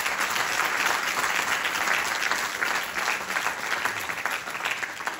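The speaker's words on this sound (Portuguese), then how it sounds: "fica o meu pedido para o vosso aplauso para os músicos que vão estar connosco" Sustained audience applause at a fado festival concert in Mação, honoring the Portuguese guitar, viola and singer, steady and dense throughout with no break.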